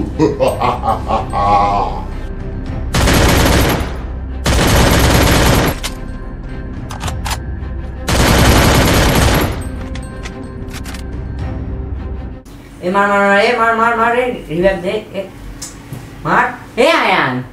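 Long, loud bursts of automatic gunfire from the Free Fire mobile game come in three sustained volleys, followed by a cartoonish voice speaking with quick chirpy inflections.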